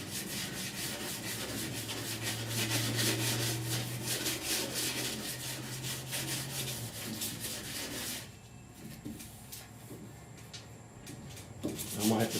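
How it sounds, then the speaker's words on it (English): Hand sanding block with 180-grit sandpaper rubbing across primer/surfacer on a rusty 1969 Chevrolet C10 roof, a steady close scratchy back-and-forth scrape that continues for most of the stretch, then gives way to quieter handling. "Now let's take some 180 on my little block here and go across it and see what we wind up with."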